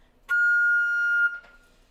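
A flute sounds a single sustained high F, a pure steady tone held for about a second after a breathy attack, then releases into quiet room noise with no talking.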